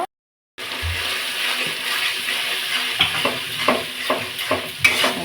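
A thick ginger, garlic and green chilli paste sizzles steadily in a hot pan while a spatula scrapes and stirs it in a regular rhythm, close up and without talk.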